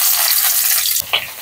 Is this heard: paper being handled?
no